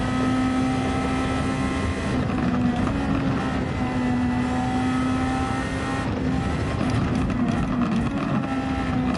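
A Superformula race car engine screams at full speed in Gran Turismo 7, a loud, steady high-revving drone with a constant tone holding throughout and no talk.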